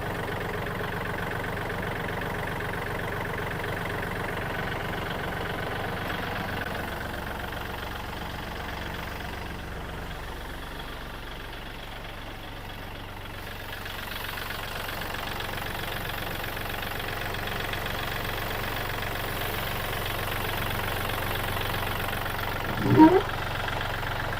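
A 2020 Kubota 40 hp tractor engine idles with a steady, even diesel rumble, running at a constant level throughout with a brief knock near the end.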